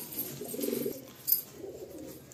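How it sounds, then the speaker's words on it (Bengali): Black pigeons from a breeder's loft in Kolkata coo in low, throaty bursts, a strong one early and a softer one later, close by with faint bird chirps in the background. "তিমিরের ঘরে কালো জেনারেশনের পায়রা"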